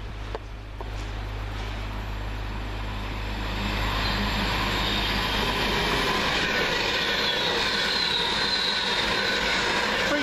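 Virgin Trains passenger train running from London Euston to Manchester Piccadilly, passing close by with a loud sustained roar of wheels and rushing air that builds and holds steady, a low engine hum fading early on.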